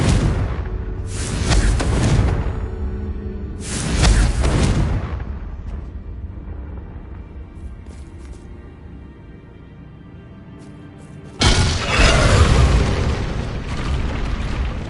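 Repeated Confringo blast spells exploding in Hogwarts Legacy: three loud booming bursts, each a sharp crack that decays into a rumbling tail, spaced a few seconds apart with quieter lingering noise between.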